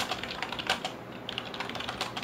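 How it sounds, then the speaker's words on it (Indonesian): Rapid, steady clicking of keys on a computer keyboard, close and fairly soft, with no voices. "Kalau di keyboard kan kita bisa ngetik."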